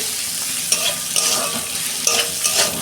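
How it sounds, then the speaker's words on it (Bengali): Onions sizzle steadily in a hot pan with a little salt, with a few clinks and scrapes as they are stirred; no talking. "পেঁয়াজটা আমি দু মিনিট ভেজে নেব"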